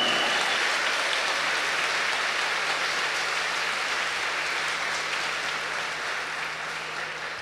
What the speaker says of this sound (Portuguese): Uma salva de palmas para essa mulher.